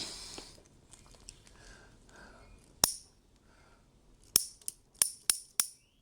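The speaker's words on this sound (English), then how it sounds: "This is your leash clicking, mate." Sharp metallic clicks from a dog leash clip snapping, one alone and then a quick run of five close together, near and crisp over a quiet background.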